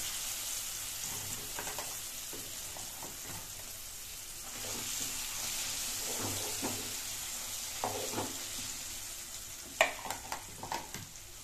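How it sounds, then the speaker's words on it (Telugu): Raw gooseberry chutney being stirred into hot tempering oil with asafoetida, a continuous sizzle with repeated scraping strokes that grow sharper and clatter near the end. "పచ్చడి అంతా వేసి నూనె అంతా కలిసేలాగా కలుపుతాను ఇప్పుడు."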